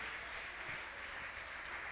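A church congregation applauds during a sermon, a steady wash of many hands clapping at moderate distance, continuous and even throughout without a clear peak or break.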